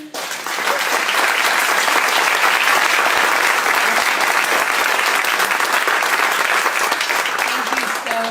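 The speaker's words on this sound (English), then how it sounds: "Now we can actually open up some applause." A crowd applauds after a district supervisor debate, with thick, continuous clapping from many hands. It rises quickly and holds loud and steady for the whole stretch, with no talk above it.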